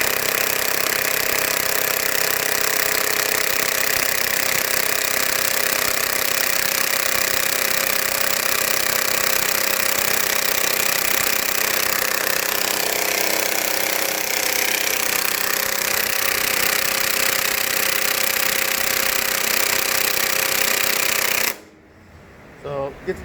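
An impact wrench hammers continuously on an L-1000 impact tool tester rated to 1000 ft-lbs, bolted down to a bench. The loud, dense rattling runs steadily for over twenty seconds, then cuts off abruptly, leaving near silence.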